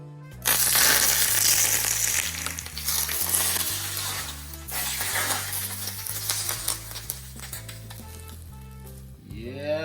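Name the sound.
hot oil sizzling over steamed fish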